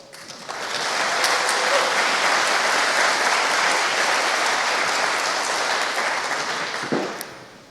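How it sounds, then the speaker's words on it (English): A conference audience applauds speakers at a security talk, loud, dense clapping that swells in, holds steady for several seconds, then tapers off near the end. "And give a big applause to both of them."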